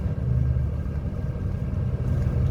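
Cars at Rauhah near Badr in Saudi Arabia, a steady low rumble of nearby motor traffic and engines, continuous and fairly loud with no talk.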